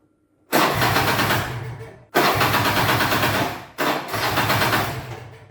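A small two-stroke Piaggio 125/150 scooter engine with a fixed 76-tooth half-pulley sputters to life three times in a row, each burst loud and rough before cutting off abruptly.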